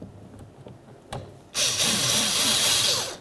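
A power tool spins up and runs nuts onto the side view mirror mount of a 2007-2012 Dodge Caliber; after a few faint clicks, a loud, steady whirring burst of under two seconds follows, up close.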